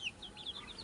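A young cockerel chick gives a brief run of thin, high peeping chirps close by, faint and alone.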